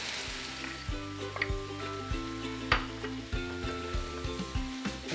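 Peas tossed into a sizzling one-pot pan of chicken fried rice, a loud steady fry with a rhythmic series of stirring scrapes and clanks against the pan, close up and without talk.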